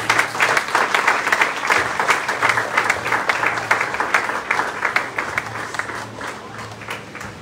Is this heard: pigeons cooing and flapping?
no